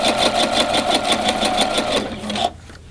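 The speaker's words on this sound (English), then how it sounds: "I'm going to stitch from the edge till I get to the X, and then I'm going to stop and do a back stitch" A sewing machine runs a seam on a travel shoe bag, a fast, even mechanical stitching chatter close by, which stops abruptly near the end.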